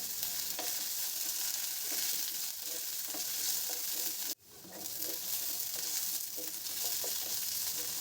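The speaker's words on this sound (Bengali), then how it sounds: "আলু আর কেটে রাখা পটলগুলো দিয়ে দিলাম" Potato and cut pointed gourd frying in light oil, a continuous soft sizzle with occasional light stirring taps and one sharp clatter midway.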